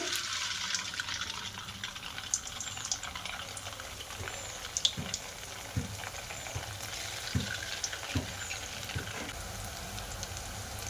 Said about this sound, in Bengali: এবার আমি বোঁদেগুলো দিয়ে দেবো। প্রথমে সাদাটা ভাজা করে নেব।